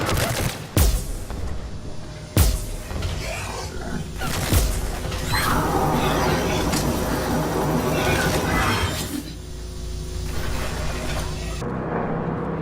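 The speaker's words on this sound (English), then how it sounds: "the Claymore is a one-shot shotgun" Claymore shotgun blasts in the video game Mass Effect 3 multiplayer, a few sharp, loud single shots spaced a second or two apart over a steady background of game ambience.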